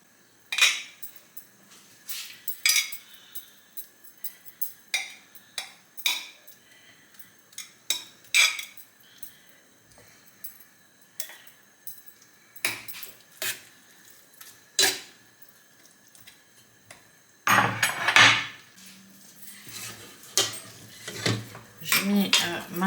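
A knife chops feta cheese roughly on a board, giving sparse, separate sharp taps and clinks with quiet gaps between, then a busier stretch of louder cutting near the end.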